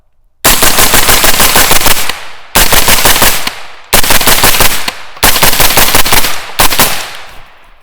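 Rapid automatic fire empties a 25-round Mission First Tactical Extreme Duty magazine loaded with Monarch steel-case ammo, heard as five loud, close bursts of fast shots with short pauses between them.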